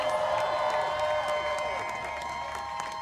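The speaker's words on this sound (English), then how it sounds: "if we can first have a round of applause for the Starbucks workers themselves" Crowd at a rally for striking Starbucks workers in New York City applauding and cheering, a continuous distant wash of clapping with scattered whoops and voices.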